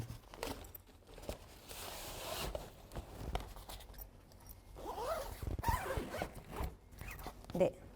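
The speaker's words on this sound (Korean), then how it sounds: "다시 지퍼를 닫겠습니다." A zipper runs on a new Jeju Air bicycle carrying bag, several rasping pulls at close range over about eight seconds, mixed with fabric rustling and crinkling while a person speaks.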